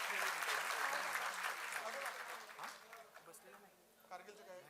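Audience applause at a Marathi book launch event for a young boy performer, a broad clapping wash that is strongest at the start and then thins out gradually, with a voice talking over the fading claps.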